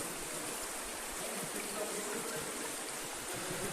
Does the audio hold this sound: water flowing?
yes